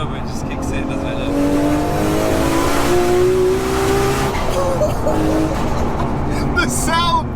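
A Nissan R34 GTR with a 2.8-litre RB26 stroker straight-six and 800 bhp revs hard on turbo boost, its pitch climbing in long sweeps with rising whoosh and sharp chirps, loud and close throughout.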